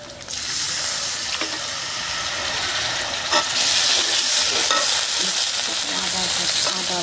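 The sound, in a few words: water added to tilapia curry, stirring in pan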